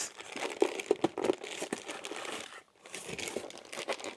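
Crinkling and tearing of packaging as a tightly packed model train is wrestled out of its box, a loud continuous rustle with crunchy bursts, a brief pause, then more crackling.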